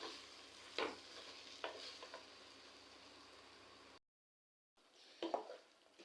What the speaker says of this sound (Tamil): இப்போ நம்ம அரைச்சிட்டு வந்தது நல்லா ஒரு நிமிஷம் நல்லா இது இப்படி மிக்ஸ் பண்ணிக்கலாம்